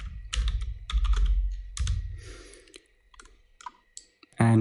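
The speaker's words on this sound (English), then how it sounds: "hit F2 on the keyboard" A computer keyboard clicks in quick bursts as a function key is pressed during editing work, crisp close-up taps in several clusters followed by sparse single clicks and a louder final knock.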